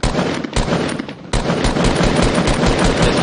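Rapid, dense automatic gunfire rattles on almost without pause in a video game, loud and close, with a brief dip before the burst resumes.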